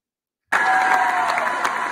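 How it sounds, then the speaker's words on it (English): Applause and cheering from an audience at a school athletic awards ceremony, starting abruptly and holding steady and loud for about a second and a half before cutting off. "we need to give it a round of applause one more time"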